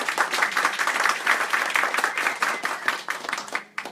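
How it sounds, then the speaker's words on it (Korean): An audience at a book launch event claps to welcome the author onto the stage, steady, fairly loud applause from a sizeable crowd that tapers briefly near the end. "박수로 맞아주세요."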